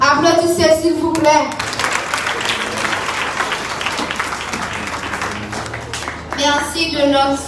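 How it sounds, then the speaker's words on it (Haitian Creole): A church congregation at an Église de Dieu Holiness Sunday service breaks into sustained, loud clapping and applause, with singing voices heard before the applause swells and again as it fades. "Applaudissez s'il vous plaît."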